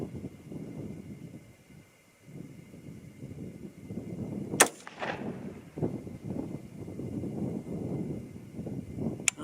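Single sharp gunshot from a 300 HAM'R rifle firing a test round at a target, one loud crack standing out against quiet outdoor background noise.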